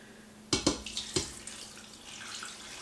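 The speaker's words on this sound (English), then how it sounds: "Now I'm going to take some filtered water" Filtered water pours from a container into an Instant Pot for turkey bone broth, opening with a few sharp splashes and then settling into a soft, steady trickle.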